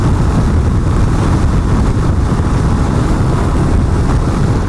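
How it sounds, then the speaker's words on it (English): Heavy wind buffeting on a helmet microphone while riding a 2021 Royal Enfield Himalayan at speed: a loud, constant low roar and rumble with the engine buried beneath. It never lets up and no one speaks. "wind blast on my shoulders and my helmet"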